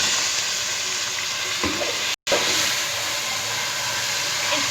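Minced meat keema with onion and garlic-ginger paste sizzles in a pan, a steady broadband frying hiss close up, briefly cut by a short gap of silence, with a few faint stirring scrapes.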